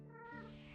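A house cat gives a single short, close meow with a rising then falling pitch.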